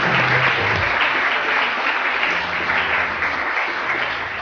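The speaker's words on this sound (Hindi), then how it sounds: "और एक दफा ताली बजा के बताएं" A studio audience on a Pakistani morning TV show bursts into steady, loud applause, a dense unbroken wash of clapping that holds throughout before easing slightly at the end.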